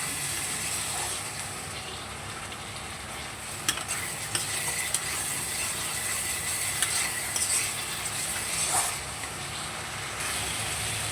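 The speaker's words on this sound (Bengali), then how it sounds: "দিয়ে আবারও ভালো করে আরেকটু কষিয়ে নেব।" Spice paste for an egg and bottle gourd leaf curry is stirred and fried in a pan. Steady sizzling runs under repeated scraping and clinking strokes of a spatula against the metal, with no talk.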